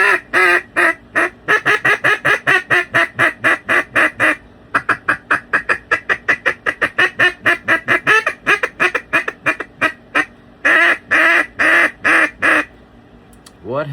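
A wooden duck call blown in fast, rhythmic runs of quacks, loud and close, with short pauses between sequences; the call mimics a duck.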